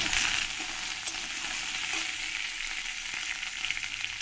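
Potatoes and two or three green chilies fry in a pan with a steady, dense sizzle and crackle, loud and close throughout, with no voices.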